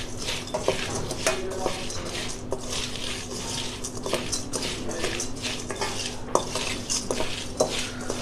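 A spoon stirs crispy fried chana dal namkeen in a bowl, making a continuous dry rattling and scraping with frequent light clinks, close and steady for several seconds.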